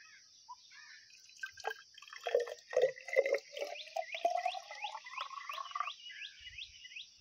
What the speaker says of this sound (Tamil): நம்ம ஜக்கில் எப்படி தண்ணி வருது பாருங்க.